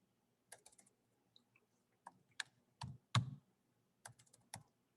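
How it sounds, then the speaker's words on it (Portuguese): A computer keyboard clicks during note-taking for a criminal law lesson. The keystrokes are sparse and irregular, quiet and close, with brief bursts and pauses and no talking. "Eu não sei porque que meu teclado está dando tilt."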